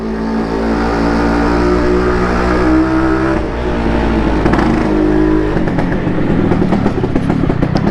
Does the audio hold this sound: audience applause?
no